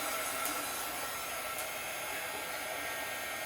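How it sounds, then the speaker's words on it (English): A heat gun blows a steady, even rush of hot air for a few seconds, a constant broadband whoosh with no talking. "Okay, so it's spinning, and I got my heat gun"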